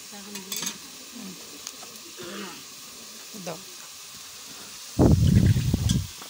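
Duck meat in a spiced masala being stirred and fried in a pot, with a low sizzle and occasional spoon scrapes, then a loud burst of frying and stirring near the end; faint talk can be heard in the background.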